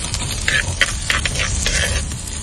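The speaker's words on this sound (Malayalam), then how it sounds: "അടുത്ത് നമ്മൾ ഇഞ്ചി അരിഞ്ഞതും വെളുത്തുള്ളി അരിഞ്ഞതും കൂടി ഇതിനകത്തോട്ട് മിക്സ് ചെയ്യുവാണ്, അതുകൂടെ ഒന്ന് മൂപ്പിക്കാൻ" Chopped ginger and garlic stirred into a hot pan of oil, a steady close sizzle with spatula scrapes and clinks running throughout.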